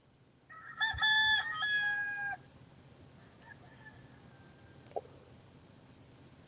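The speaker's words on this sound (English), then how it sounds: "Still crowing." Roosters crowing on a morning in Tennessee: one loud, clear cock-a-doodle-doo lasting about two seconds, followed by fainter distant crows and a brief clunk against quiet background hiss.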